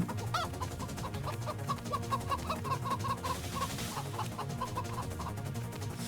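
Chicken clucking in a Roblox game, a run of short repeated clucks over a steady low background hum, moderately faint.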